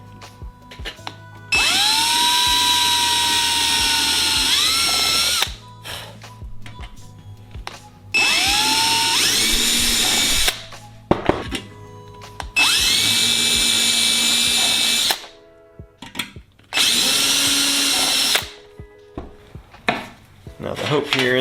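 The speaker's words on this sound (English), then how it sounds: "that's where I'm going to drill my 4 holes to be able to put in my bell crank assembly here" A power drill whines in four separate bursts while drilling holes in a bellcrank rib of a Sonex kit aircraft, each a few seconds long with a rising pitch at the start, separated by short pauses filled with clicks and handling.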